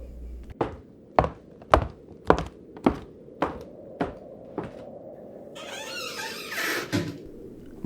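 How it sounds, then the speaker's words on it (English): A cabinet door in a creepy video game swings with a brief creak and closes with a soft knock, following a string of close, regular footsteps in a silent room. "maybe shut this cabinet door over here"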